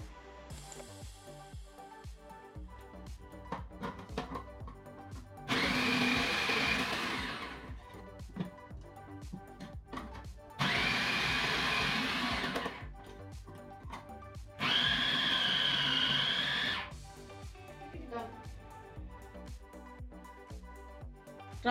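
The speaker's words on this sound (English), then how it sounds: "Now I'm going to grate the carrots using my food processor." A food processor grates carrot pieces for gajar ka halwa in three loud whirring bursts of about two seconds each. Quiet pauses separate the bursts, and the machine sounds close and harsh.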